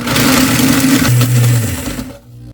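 A blender grinds dehydrated sweet potatoes into powder, a loud close motor whine whose pitch drops partway through before the blades spin down and stop.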